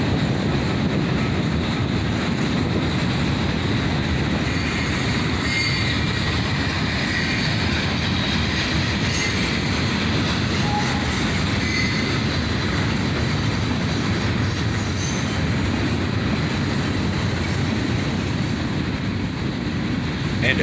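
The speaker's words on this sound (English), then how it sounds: "And a few refrigerator cars near the end of the train here." A long CSX freight train with refrigerator cars rolls steadily past close by, a continuous loud rumble of wheels with rhythmic clatter and faint squeals, and no one speaking.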